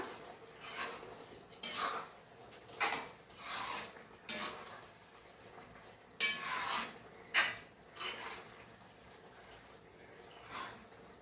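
A spoon scrapes and turns chicken biryani in a pot, giving a series of soft, irregular rasping stirs and light metal knocks spaced a second or two apart, close by and fairly quiet, with no voices.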